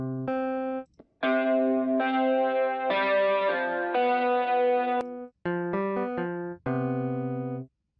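Distorted DI guitar-style synth tone from Sytrus in FL Studio, played as a short series of buzzy, harmonically rich sustained notes and chords with brief gaps between them, loud and without speech.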